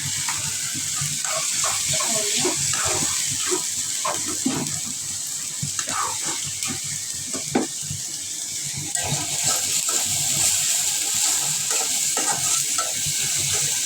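Spice paste with turmeric and salt sautéed in oil for a tilapia fish curry, a continuous sizzle with steady scraping stir strokes, close and fairly loud throughout.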